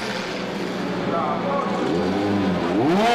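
A race car in the IDIS SuperLights Challenge at Zolder pulls away to rejoin the race after an error, its engine a steady loud roar rising in pitch near the end, with a commentator talking over it.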